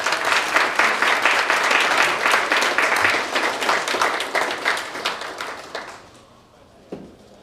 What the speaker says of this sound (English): Applause to our speakers.